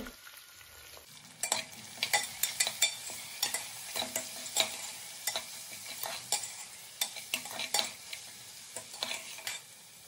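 Mutton paya with onion, curry leaves, turmeric and salt is stirred in a pot over a soft sizzle, with a spoon scraping and clinking in a rapid irregular run of sharp strokes, close and clear.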